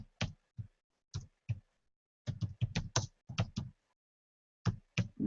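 Computer keyboard typing in short clustered bursts of clicks with pauses between, close and fairly clear, with no talk over it.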